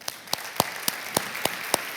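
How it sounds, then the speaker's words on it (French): Distinct claps at a mentoring-month launch ceremony, about eight sharp separate strikes spaced roughly a quarter second apart over two seconds against a soft background hum, sounding like a small handful of hands rather than full applause. "Pour ça, vous pouvez vous applaudir très fort."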